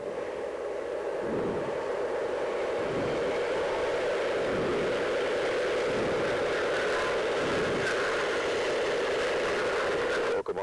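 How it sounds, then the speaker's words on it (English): CNR steam locomotive 6060 backing slowly into a sharp curve on a knoll, a steady loud rumbling roar with a low rhythmic pulsing every second or so, continuous throughout. "Locomotive 6060 is backing slowly into the curve."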